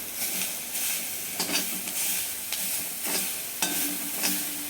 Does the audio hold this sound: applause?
no